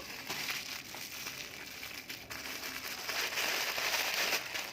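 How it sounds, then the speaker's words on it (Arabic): Plastic freezer bag filled with spinach, squeezed to push out air and then tied, giving continuous close crinkling and rustling of thin plastic, with no talk over it. "واروح ماسكه الكيس ربطاه كده"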